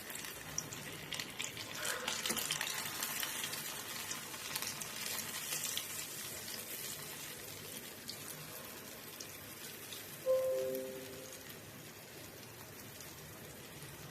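Batter dropped into hot oil in a kadai, cooking a healthy evening snack, gives a soft, steady sizzle at low level, with a brief clink partway through.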